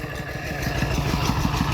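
A walk-behind tractor engine drives a 3-inch aluminum water pump at low throttle, steady mid-range thumping pulses running evenly and close throughout.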